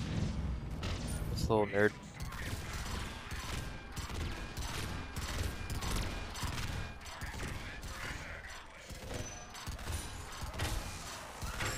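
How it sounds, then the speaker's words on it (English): Dense bursts of gunfire from a Mass Effect 3 firefight rattle almost nonstop, with loud rapid volleys and impacts layered under a player talking throughout. "Who's shooting me?"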